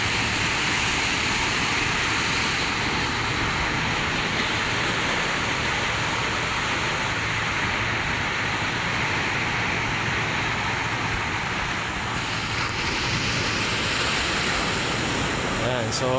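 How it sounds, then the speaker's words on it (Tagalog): Ocean waves roll and break steadily along a seaside shore in the morning, a continuous broad wash of surf with no pauses. "Ang alon, guys, oh."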